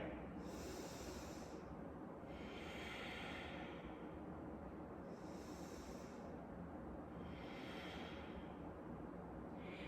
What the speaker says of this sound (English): take 3 full breaths here